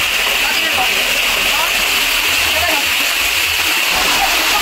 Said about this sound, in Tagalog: yun yung falls dyan, sa baba